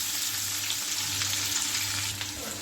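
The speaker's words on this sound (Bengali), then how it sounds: "এখন পেঁয়াজটা একটু আমি ভেজে নেব।" Onions sizzle steadily in hot oil in a pan, with whole five-spice seeds already tempered, for a bean and eggplant dish; a continuous close hiss with faint stirring, no voices.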